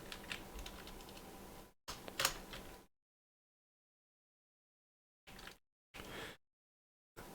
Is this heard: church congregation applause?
no